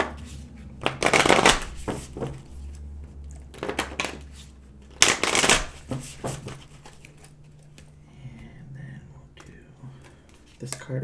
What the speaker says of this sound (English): I'm going to shuffle it a couple more times, put all of the cards down into the spread